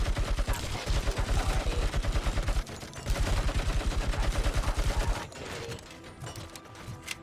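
Rapid gunfire from the video game Robocop Rogue City, dense bursts of automatic shots rattling steadily for about five seconds, then easing into a softer, sparser stretch of battle noise.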